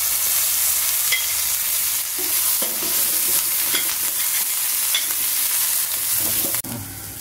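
Steady sizzling of curry leaves and shallots frying in a pan, with occasional stirring scrapes and clicks throughout, close and fairly loud, no talking.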